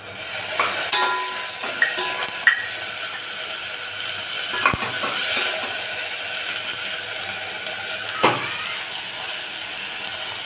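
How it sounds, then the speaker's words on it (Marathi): Peas tossed into fried onion and garlic in a pan, giving a soft continuous sizzle with clicking and scraping stirring sounds and a few sharp knocks, close by and without talk. "कांदा लसूण आपला चांगल्यापैकी भाजलेला आहे। आता मी यात टाकणार वाटाणे।"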